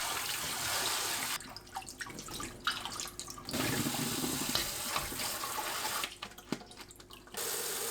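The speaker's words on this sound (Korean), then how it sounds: "4분 후 찬물에 헹구고 체에 받쳐둡니다." Cold tap water runs steadily as blanched lotus root is rinsed in a kitchen sink for kimchi, the flow breaking up twice into splashing and gurgling as the food is moved under the stream.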